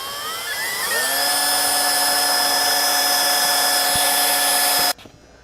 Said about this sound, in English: I'm going to go ahead and drill a pilot hole first